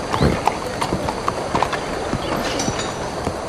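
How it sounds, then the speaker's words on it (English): Horse hooves clip-clop at a steady trot in Red Dead Redemption 2, a western video game, with sharp, fairly close hoofbeats over a busy background of game ambience and no talk. "Arthur was trying to line up a horse jump here, but the horse had a different idea"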